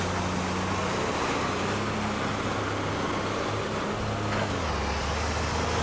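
Truck in the action-adventure game Lost Horizon, a steady loud engine drone with a hissing roar and a shift in pitch near the end, no talking.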